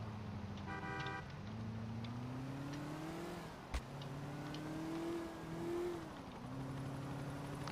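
Moskvich 412 car engine in GTA IV: a steady droning engine note that climbs and dips with shifts in revs, a brief horn toot near the start and a sharp knock midway, fairly loud throughout.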